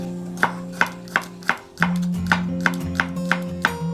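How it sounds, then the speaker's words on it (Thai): Chinese garlic is sliced into thin pieces on a board, a knife striking in a steady rhythm of about ten crisp, close chops over a faint constant hum. "ให้นำกระเทียมค่ะ มาหั่นเป็นแผ่นๆเลยค่ะ"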